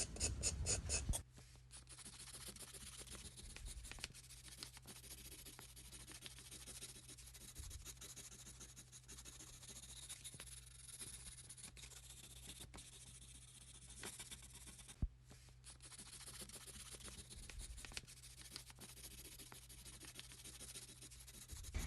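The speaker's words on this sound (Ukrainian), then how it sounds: "Пройдемося так всюди олівчиком твердим." Hard graphite pencil shading hair strands on paper, a soft continuous scratchy rasp with steady repeated strokes, close and quiet, with no voices.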